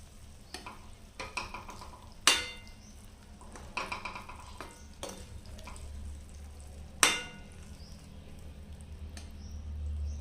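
A spoon stirs paneer bhurji with fresh coriander in a pan over a low, steady sizzle, with soft scraping strokes and a few sharper knocks against the pan at intervals.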